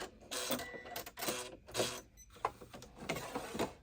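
An embroidery machine stitches a zipper bag while the thread is looping, giving quick rhythmic mechanical bursts of needle chatter separated by short pauses, close and fairly quiet.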